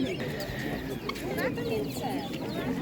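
Chicks and chickens cluck and cheep at an animal market in Ivano-Frankivsk region, with chirps scattered over nearby people talking.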